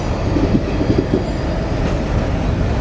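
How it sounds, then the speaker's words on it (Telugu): Continuous low rumble and rolling clatter of a train arriving at Renigunta Junction station in India, moving close by, steady and loud throughout. "ఇప్పుడే రేణిగుంట జంక్షన్కి ఏదో ట్రైన్ అయితే వచ్చింది"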